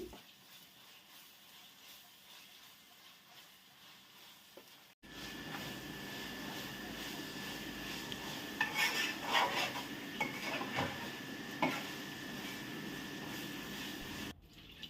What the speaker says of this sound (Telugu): పేస్ట్ కూడా వేసుకొని కొంచెం పచ్చివాసన పోయేంత వరకు వేయించుకోవాలి